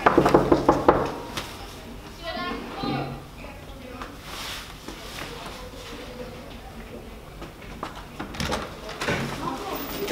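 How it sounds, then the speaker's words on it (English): A few sharp knocks on a classroom door open the scene in a film drama, followed by voices talking and scattered scuffling and bumps in a room. "Knock on that door."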